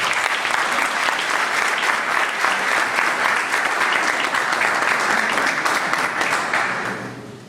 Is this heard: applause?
yes